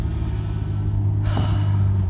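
A single deep breath drawn in slowly, close and audible over a steady low hum, with no speech.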